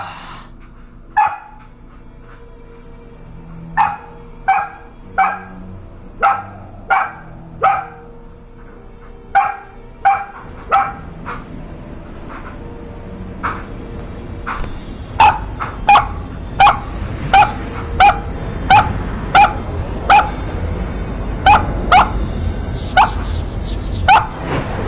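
A dog barks in repeated sharp bursts, first in a spaced series and then a steadier run, fairly close over a low background hum during a live PS4 game broadcast.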